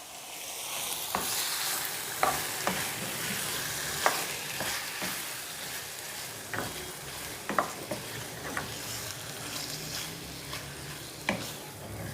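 Thinly sliced chicken cooking in a pan on low heat for chow mein, a steady gentle sizzle with regular clicks and taps of a spoon stirring against the pan, no voices.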